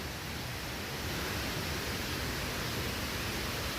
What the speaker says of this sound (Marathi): पाण्याचा आवाज येत असेल तुम्हाला. पाण्याला किती प्रेशर आहे